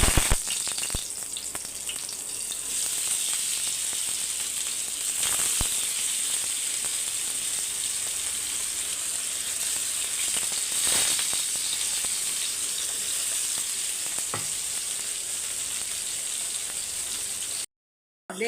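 Masala-coated Sankara fish frying on a hot dosa griddle, a steady close sizzle running throughout with a few brief sharper crackles, no talking.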